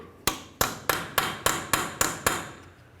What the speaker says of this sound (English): Use a hammer and punch, break this free.